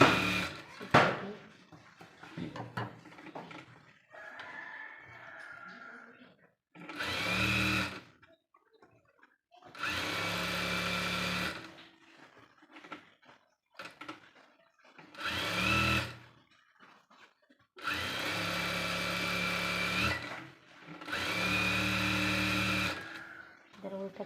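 Sewing machine stitching a blouse in several loud bursts of rapid whirring, separated by pauses with quiet handling sounds.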